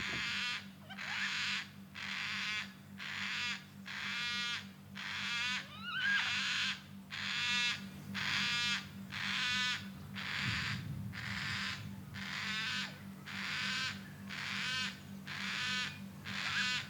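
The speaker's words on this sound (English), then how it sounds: "there's some yellow-tailed black cockatoos over there which I might just try and capture for you" Yellow-tailed black cockatoos give a long series of repeated harsh, wailing calls at a steady rhythm, moderately distant, over a continuous low hum in the outdoor background.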